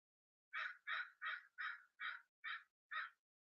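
A crow caws seven times in a steady, evenly spaced series, clear and moderately distant against a silent background.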